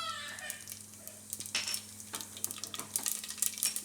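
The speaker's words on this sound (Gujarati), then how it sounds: "તેલ આપણું ગરમ થઈ ગયું છે. એમાં આપણે નાખીશું પહેલાં જીરું" Cumin seeds dropped into hot oil for a bottle gourd dish crackle and sizzle in sharp bursts over a low steady hum, growing busier toward the end.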